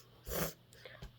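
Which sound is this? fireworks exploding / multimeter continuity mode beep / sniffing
sniffing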